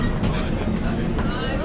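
Steady rumble and rattle of a subway train in motion, with a loud continuous roar and faint voices mixed in.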